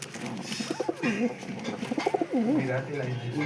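Racing pigeons kept in a large loft coo in repeated rolling, warbling phrases close by, over a steady background hum of other birds and activity.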